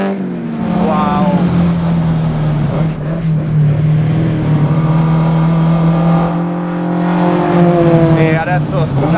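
An Alfa Romeo Giulia GTAm race car at the Balocco test track holds a loud, steady engine drone with a few rising rev swells, while someone talks excitedly over it.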